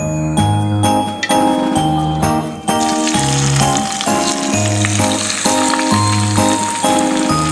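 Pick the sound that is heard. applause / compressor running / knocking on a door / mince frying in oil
mince frying in oil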